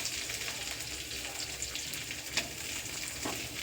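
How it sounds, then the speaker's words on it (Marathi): Onion hits a hot pan and sizzles steadily, a dense, hissing fry with a few small pops and clicks of the spoon, fairly quiet and continuous with no talk. "आता टाकायचा आहे कांदा."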